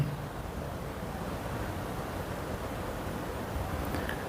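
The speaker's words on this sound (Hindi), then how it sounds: "पानी की आवाज सुनिए," Steady, broadband rushing of a flowing river heard from its bank, continuous and moderately quiet, with no voices.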